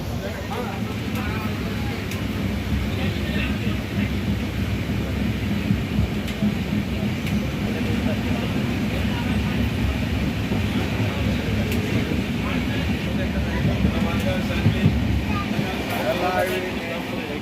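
Steady, heavy rumble of a moving train arriving in Digha fills the whole stretch, with voices murmuring underneath.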